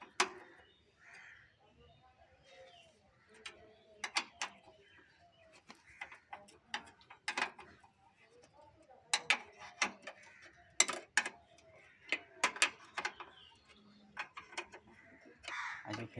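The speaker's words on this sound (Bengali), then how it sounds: "তো 12 নাট বোল্টটাকে ওপেন করে নিই।" A wrench loosens a 12 mm bolt on a Kubota harvester during an engine oil change, giving sparse metallic clicks and ratcheting ticks in short bursts with quiet gaps between them.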